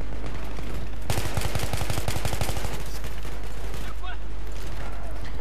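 Controlled bursts from an M16 rifle in Battlefield 3 ring out in a rapid, loud string of sharp shots, followed by scattered distant gunfire and game ambience, with someone speaking over it.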